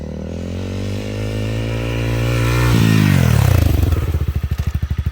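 A motorcycle engine drones steadily on a dirt forest road in Jeju, then pitch drops and the exhaust breaks into a rapid, pulsing chug, loud and close, with scraping clatter underneath.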